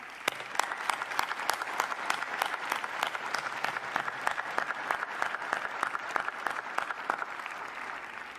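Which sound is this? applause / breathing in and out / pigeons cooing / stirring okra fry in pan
applause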